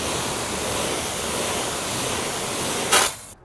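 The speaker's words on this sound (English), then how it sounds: "So we're lightly going to rinse it off." A BMW M4 wheel being lightly rinsed, a steady broadband spray of water hissing close up for about three seconds before a brief louder burst and an abrupt stop.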